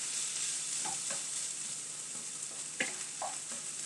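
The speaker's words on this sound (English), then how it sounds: "we're just cooking away our turkey mince" Turkey mince frying in a pan with a steady soft sizzle, joined by a few light scrapes and clicks of stirring. No voices are heard.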